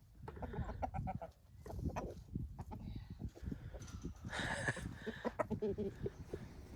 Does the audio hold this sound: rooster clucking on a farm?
yes